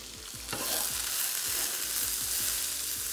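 Onion, garlic and grated ginger frying in a hot wok, a loud steady sizzle that jumps up sharply after half a second as more goes in, with repeated scraping stirs running underneath.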